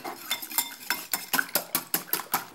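A whisk beats an egg and mustard mixture in a bowl, giving about a dozen quick, evenly spaced metallic clinks and swishes. The strokes are close and distinct, with no talking.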